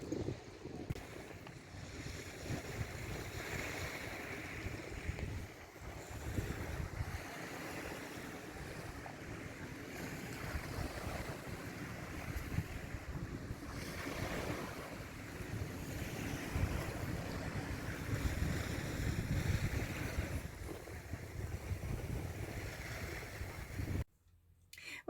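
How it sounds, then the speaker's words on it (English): Sea waves rolling onto a beach, a continuous broad wash of surf with wind buffeting the microphone, steady and fairly loud throughout, no voices. "Can you hear the sea?"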